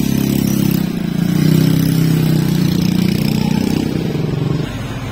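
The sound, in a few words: motorcycle engine running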